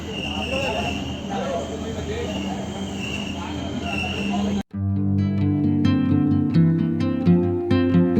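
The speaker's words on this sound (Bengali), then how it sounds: "আমাদের ট্রেন ঠিকঠাক টাইমে ছেড়ে দিয়েছে" A running passenger train gives a steady rumble with faint high wheel squeal for about four seconds, then an abrupt cut to a louder, clearly pitched sound.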